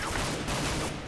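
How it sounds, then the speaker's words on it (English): Rapid gunfire in the video game CS:GO comes as a dense, loud burst of overlapping shots filling a brief moment. "Who shot?"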